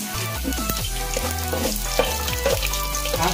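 Spices crackle and sizzle as they hit hot oil for a South Indian tempering, with steady frying hiss and a few sharp pops and stirring clinks, close and continuous with no talking.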